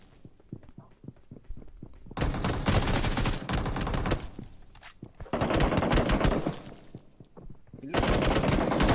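Video game gunfire: rapid automatic bursts fired in several long volleys, with quieter gaps of single shots and footstep-like thuds between them.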